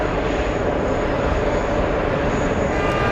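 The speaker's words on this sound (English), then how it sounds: "Let's go for the takeoff." A plane takes off at JFK airport: a loud, steady, broadband engine roar holds unbroken from start to finish, close and dominant with no other sounds.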